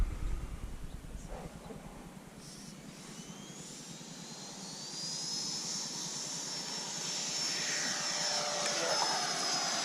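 A Freewing F-22 Raptor RC jet with an upgraded 1900 kV electric motor takes off, its ducted-fan whine steady and loud, then rising in pitch and building as the model climbs away.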